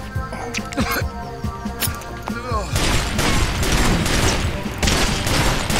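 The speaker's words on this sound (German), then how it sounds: "Wir werden beschossen." Far Cry 2 gunfire breaks out as heavy, rapid volleys of shots after a quieter opening with scattered game sounds, staying loud and continuous to the end.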